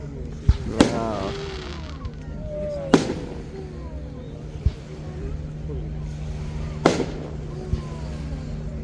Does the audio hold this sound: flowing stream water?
no